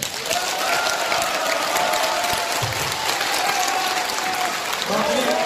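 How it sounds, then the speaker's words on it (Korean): Audience applause at a Korean political party event for the Korean Patriots Party, a dense, steady roar of clapping filling the hall from start to finish, with faint background voices mixed in. "큰 박수 부탁드리겠습니다"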